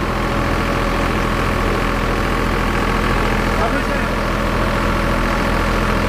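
A Sonalika tractor engine pulling a rotavator runs steadily and loudly throughout, a constant low rumble with no breaks.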